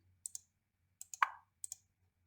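Computer mouse clicks, two pairs of sharp double clicks and one louder single click in a quiet room, close and crisp.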